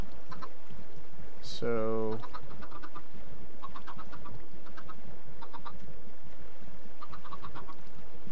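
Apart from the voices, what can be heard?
chickens clucking in the video game Minecraft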